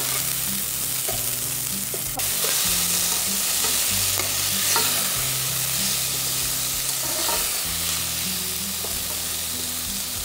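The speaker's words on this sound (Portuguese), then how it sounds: "E dá uma refogadinha agora na cebola" Chopped onion sautéing with sweet peppers in a hot pan, stirred continuously, makes a loud, close frying hiss with scraping utensil strokes throughout and no voices.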